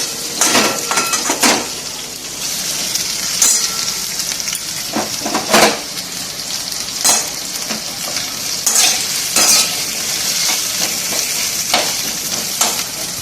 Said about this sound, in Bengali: আলুগুলো একটু ভেজে নিলাম